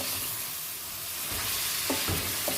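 Chicken karahi with green and red chillies fries hard in a pan, giving a dense, loud, continuous sizzle with a few stirring scrapes near the end and no speech.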